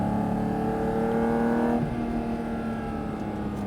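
A Porsche GT4 RS accelerating on a track near Pont-l'Évêque, its engine a steady, loud in-car drone that climbs in pitch and then shifts and settles into a rougher, continuous roar.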